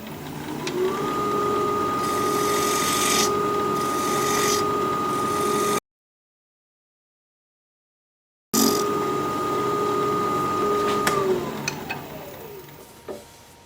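A 3/8-inch standard grind bowl gouge cuts a holly live edge bowl on a spinning wood lathe, a steady motor whine under scraping, interrupted by a silent gap before the cutting resumes and winds down.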